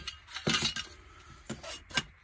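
Metal pieces of a camping cook kit with a stove and brass alcohol burner being handled, giving a few close clinks and rattles of metal on metal with no talk.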